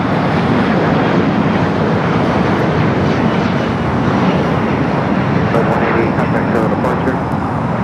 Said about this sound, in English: There was a Alaska flight 696 coming from Seattle, 737 MAX 8 that just crossed over LAX